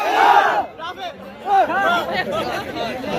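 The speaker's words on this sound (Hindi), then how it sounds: "नहीं, नारे तो बड़े अच्छे लगाते हो" Crowd at a bonfire night shouting in loud, rhythmic bursts, voices rising and falling in ragged chant-like waves close by with chatter between.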